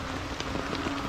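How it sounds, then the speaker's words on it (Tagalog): Heavy rain pours down outdoors on red-soil ground, a steady dense patter with scattered sharper drops, close and continuous with no talking. "Grabe po na talaga na ulan"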